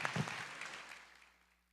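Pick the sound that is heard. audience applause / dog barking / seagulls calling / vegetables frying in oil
audience applause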